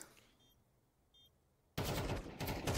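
Rapid gunfire bursts in Counter-Strike 2 on the Anubis map during a G2 versus Falcons IEM Dallas 2024 match, erupting loud and dense after a quiet stretch with faint game noises.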